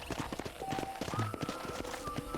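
Horse hooves clip-clopping at a riding pace in the video game Red Dead Redemption, a steady rhythmic patter under game music and ambience, moderately close.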